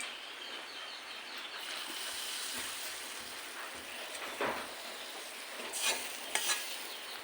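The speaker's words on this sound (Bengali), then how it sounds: "কুচি করে কারি পাতা দিয়ে দিলাম" Cumin and chopped curry leaves sizzle in hot oil while being stirred: a continuous soft frying hiss with occasional scraping strokes and faint bird chirps in the background.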